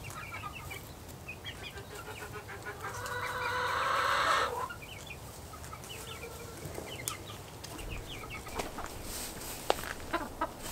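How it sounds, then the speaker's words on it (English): Several young roosters and hens crow and cluck in a farmyard, with a drawn-out crow rising in the middle over steady clucking and a busy outdoor background. "the five little roosters that I call the under the foot gang, they're finally getting brave"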